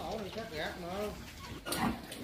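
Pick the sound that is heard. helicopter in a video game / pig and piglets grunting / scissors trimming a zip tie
pig and piglets grunting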